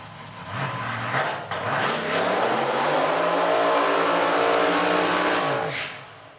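Race car engine revving hard at a motorsports event in Edmonton, a loud, close roar climbing in pitch and holding high for several seconds before cutting off, with no talk.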